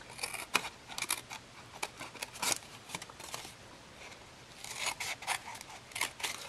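Scissors snip through paper while cutting lines for a jumbo tea light box, giving a series of close, crisp cuts in irregular bursts, with a short pause midway before more quick snips follow.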